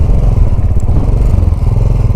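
A Royal Enfield 535 Continental GT single-cylinder motorcycle, just kick-started in two kicks, idles while warming up with a loud, close, steady low thumping beat, no voices over it.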